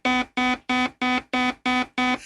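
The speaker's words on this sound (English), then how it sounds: "he kept setting off the alarms" A metal detector alarm at a courthouse security checkpoint sounds seven loud, evenly spaced electronic buzzes, each a steady harmonic tone roughly a quarter second long, with short gaps between them and nothing else audible.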